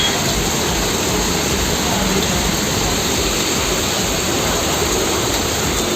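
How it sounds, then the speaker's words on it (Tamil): Heavy rain during a thunderstorm in the Erode area pours down as a loud, steady, unbroken roar throughout, with no distinct thunderclap standing out. "இடியுடன் கூடிய கனமழை பெய்தது"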